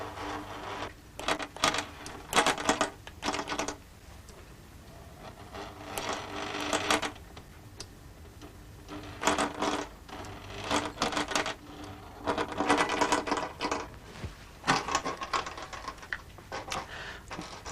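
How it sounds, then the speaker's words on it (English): A computerised sewing machine with a stepper motor drives its needle, giving bursts of rapid mechanical clicking and whirring that start and stop repeatedly, fairly close and loud, with no talk. "I think you can see the stepper motor moving the needle in this machine."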